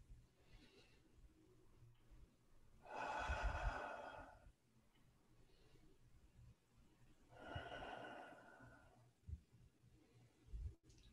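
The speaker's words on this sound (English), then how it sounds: "Take a couple of long, deep breaths here." Long, slow deep breaths during a gentle restorative Kundalini yoga class, two broad airy inhale-exhale swells a few seconds apart, soft and close over a quiet room.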